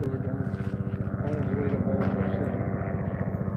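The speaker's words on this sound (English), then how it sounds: "there's a helicopter coming right now" A steady low rotor-like thrum with rhythmic pulsing fills the whole stretch, sounding like a helicopter passing at a moderate distance.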